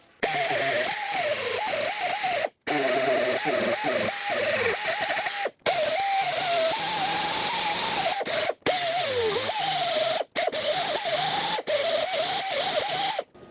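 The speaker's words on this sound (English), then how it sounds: "I'm just going to use a die grinder with some coarse sandpaper and sand them off." A die grinder whines with coarse sandpaper while sanding interior door handle parts on a 2010-2017 Chevrolet Equinox, its high pitch wavering as pressure changes, running in several bursts separated by brief stops.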